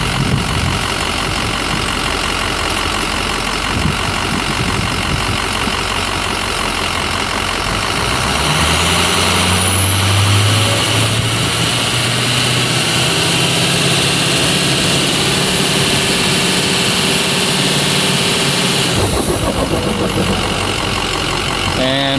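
A Ford Super Duty truck's engine with a 5R110W transmission, running under load in a stall speed test with a hard shift problem, rises from idle to a loud, steady high rev, then drops back near the end.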